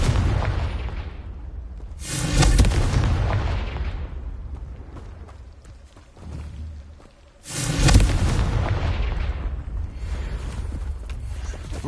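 Confringo blasting spell explosions in Hogwarts Legacy, two loud sharp bursts, each followed by a long rumbling decay, separated by a lower thud, with game ambience between.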